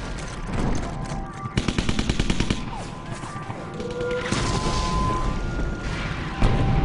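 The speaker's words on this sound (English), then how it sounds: "As Kanaya and the 442nd approach the hill town of Briere, they come under heavy shelling." World War II battle near the hill town of Bruyères, with heavy shelling and gunfire: dense rattling bursts of automatic fire and rumbling booms layered over one another, loud and continuous throughout.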